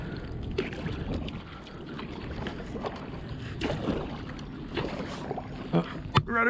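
A kayak paddle dips and splashes in shallow water near a channel, with soft irregular sloshes under wind noise and a nearby voice speaking.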